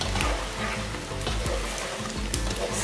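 Feijão tropeiro being stirred with cassava flour in a hot pan: a steady close sizzle with scraping spoon strokes against the metal, no voices.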